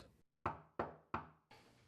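Four loud, evenly spaced knocks strike a door, each ringing briefly before the next, with the last a little softer.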